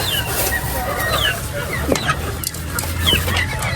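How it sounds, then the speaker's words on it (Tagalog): Chickens being fed cluck and chatter in scattered bursts over a steady low rumble, with occasional higher calls; no one speaks. "Papakainin natin itong mga manok, mga master."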